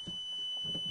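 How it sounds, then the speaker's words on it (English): A steady high-pitched warning tone from inside a Mk4 VW Golf R32 sports car, faint and continuous under a low cabin hum. "You'll hear a lot of beeping noises"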